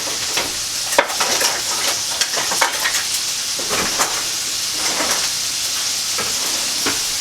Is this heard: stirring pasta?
yes